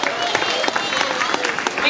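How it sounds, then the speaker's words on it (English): An audience claps at an African elephant show at Grant's Farm in St. Louis, Missouri, a brief, steady burst of crowd applause with scattered sharp claps. "give a round of applause"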